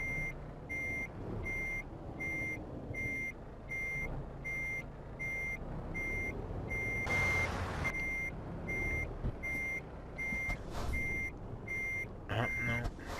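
Truck backing a trailer in Euro Truck Simulator 2: steady evenly spaced reversing beeps repeat over a low engine drone, with a brief louder burst of noise partway through.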